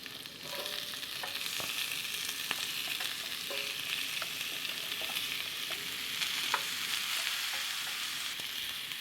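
Golden-brown potatoes and mixed vegetables sizzle steadily in a pan for a vegan omelet, with a soft constant frying hiss broken by occasional stirring scrapes and clicks, close and fairly quiet.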